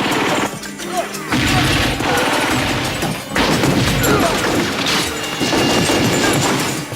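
Real glass smashing during a Hard Boiled gunfight scene: loud, dense crashes and shattering bursts repeat several times amid gunfire and chaotic action noise, with no gaps of quiet.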